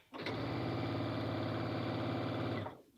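A Brother Innov-is BQ2450 sewing and quilting machine stitches with its dual feed foot engaged, a smooth, fast, steady motor hum that starts abruptly, runs for about two seconds and stops, close up with no talking.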